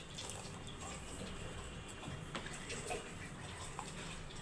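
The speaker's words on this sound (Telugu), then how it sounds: "కస్టర్డ్ పౌడర్ కలిపిన పాలు పోస్తున్నాను" Milk mixed with homemade custard powder pours into a pan in a steady, faint liquid gush lasting throughout, with a few small clicks.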